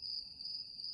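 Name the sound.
crickets chirping in the distance at night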